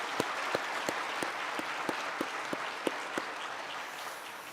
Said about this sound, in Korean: 박수로 환영해 주시면 좋겠습니다.